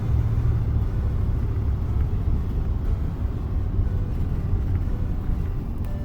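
An RV rolls along a road on its way out of town, heading off to test freshly repaired rear brakes; a steady, loud low rumble of engine and road noise fills the cabin without a break, with no talking.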